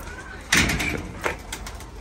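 Arab pigeons in a coop give a couple of soft, close coos with a sharper bird call among them, over quiet background noise and with no clear talk.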